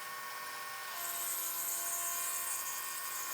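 A CNC mill running a radius-cutting program with G02 and G03 arcs on a workpiece, giving a steady high-pitched spindle whine that rises and stays loud and continuous throughout.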